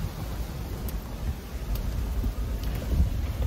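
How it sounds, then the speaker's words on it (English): Strong wind on a Florida beach in Jacksonville, a steady loud roar and rumble buffeting the microphone throughout with gusty swells, and no voices. "it's very, very, very, very windy out"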